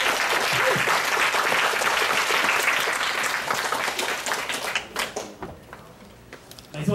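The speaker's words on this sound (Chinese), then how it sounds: "让我们再次掌声谢谢苏炳恩" Audience applause at a university sociology lecture event in thanks to a speaker, a dense sustained burst of clapping from a crowd that gradually thins and fades toward the end.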